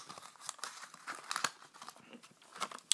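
Close paper crinkling and rustling as a folded instruction manual and packaging are pulled from a speaker box, irregular soft crackles and small tearing sounds with brief pauses.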